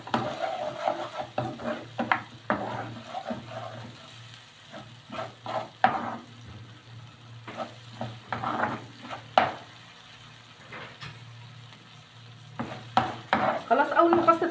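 Garlic cloves and onion frying in ghee and oil, a soft low sizzle broken by scraping stirs and occasional utensil clinks against the pan, close and uneven in loudness.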